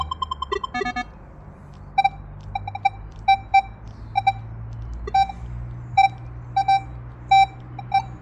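Minelab Manticore metal detector giving falsing signals while swept over iron, a series of short, sharp electronic beeps and pulses recurring at irregular intervals over a low background hum, with no talk.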